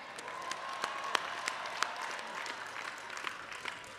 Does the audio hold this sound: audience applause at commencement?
yes